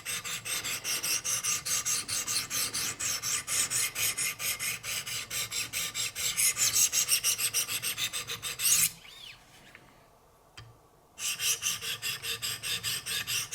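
A Benchmade Altitude knife with S90V steel blade is sharpened on Wicked Edge stones, giving rapid, rhythmic rasping strokes close up, a brief pause, then the steady scraping strokes resuming.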